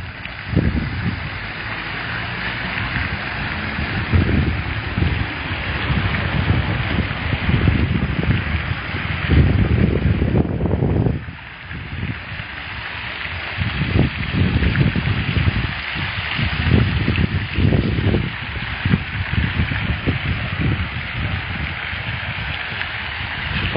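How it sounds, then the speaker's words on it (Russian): Water splashes and gurgles from a running fountain, an old public fountain just restarted, a steady rushing wash with uneven surges throughout. "Журчание воды успокаивает."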